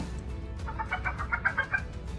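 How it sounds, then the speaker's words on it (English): A hen gives a quick series of clear, mid-pitched clucks over a low background hum, moderately close and with no voices over it. "Yes, it's a hen. Hens make the sound"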